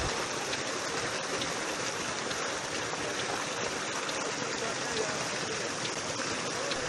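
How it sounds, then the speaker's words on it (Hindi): Water from a 4-inch solar tubewell pump running on 17 panels in a rural area of Pakistan, a steady broadband rushing and splashing at moderate level, constant throughout. "बेहतरीन और ज़बरदस्त प्रेशर के साथ 4 इंच की डिलीवरी हाजिर है"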